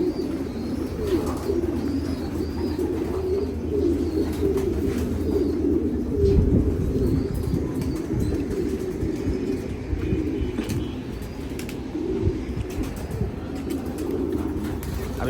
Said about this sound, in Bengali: আমি স্টকের কবুতরগুলো রোদে দিছি